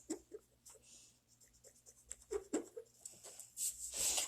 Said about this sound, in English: Gotta love the sound of the eraser.